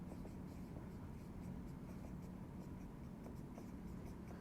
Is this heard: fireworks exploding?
no